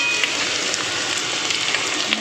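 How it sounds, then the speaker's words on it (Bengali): Fish roe, onion and potato fry together in a pan, giving a dense, steady sizzling hiss with a few faint crackles and no voices. "মাছের ডিম ও পেঁয়াজটা আলুর সঙ্গে ভালো করে ভাজা ভাজা করে নেব।"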